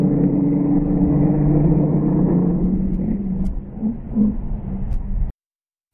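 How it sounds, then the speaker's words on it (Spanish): A Volkswagen Golf drives a slalom test with a steady low engine and road rumble that eases slightly before cutting out abruptly near the end. "Este Golf se maneja bien en los sucesivos cambios de dirección que se hacen en el slalom"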